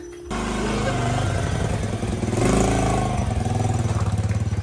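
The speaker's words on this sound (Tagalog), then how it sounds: "Magmotor lang po kami" A motorcycle engine starts abruptly and runs steadily nearby, with a throb that swells briefly as it revs and then settles into an even rhythmic putter toward the end.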